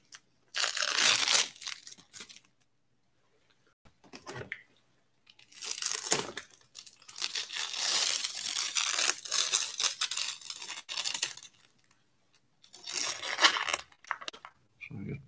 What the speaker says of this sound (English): let's just get some tape off here